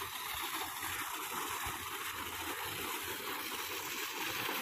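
Steady water flows on a college campus, a continuous even hiss and rush with no breaks, at a constant moderate level and no one talking.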